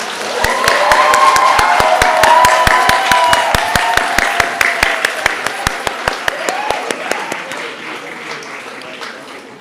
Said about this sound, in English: Please join me and give a huge round of applause for Jananee